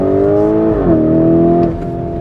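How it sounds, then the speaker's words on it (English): Lamborghini Urus V8 in sport mode with exhaust valves open, a loud, steady engine drone close up that dips briefly then swells as revs rise, settling into a sustained throaty hum with no talk. "sport mode, where it changes the tone of the exhaust straight away"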